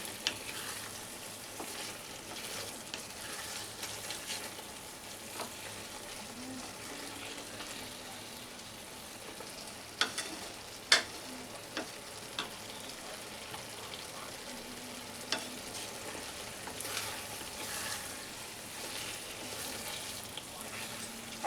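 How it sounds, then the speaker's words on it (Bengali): Grated coconut fries over medium flame in a pan for a ridge gourd dish, giving a soft, steady sizzle with faint scraping and stirring clicks throughout. "নারকেল কোড়াটা দিয়েও আমি 2 থেকে 3 মিনিট একদম মিডিয়াম ফ্লেমে কষিয়ে নেব।"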